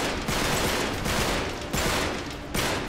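Loud bursts of automatic gunfire in Uncharted 3, pulsing in several clustered volleys with short gaps between them.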